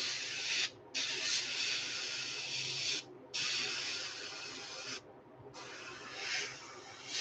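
An airbrush sprays paint onto a peacock bass fishing lure as a loud, close, steady hiss that breaks off briefly three times before starting again.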